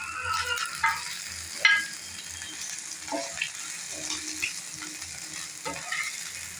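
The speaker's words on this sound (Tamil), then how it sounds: "கீ போட்டு எறா வறுவல், அது கூட வாசனைக்கு கருவேப்பிலை கொஞ்சம் போட்டுருங்க." Prawns sizzle in ghee with curry leaves in a pan, a close, steady frying crackle punctuated by occasional stirring clinks and scrapes.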